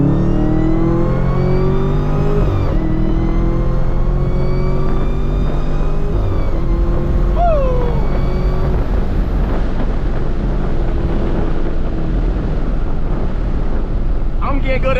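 A Chevrolet Camaro ZL1 with a six-speed manual revs hard through no-lift shifts, its engine note climbing and dropping sharply between gears under loud wind rush and cabin noise.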